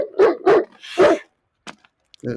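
A dog on a leash gives three loud barks in quick succession, followed by a few faint, scattered sounds and a brief low noise at the end.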